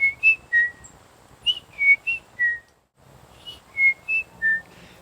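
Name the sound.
whistled imitation of chickadee piping song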